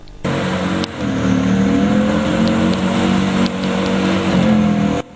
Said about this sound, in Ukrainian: новому танку збільшили потужність двигуна до 850 кінських сил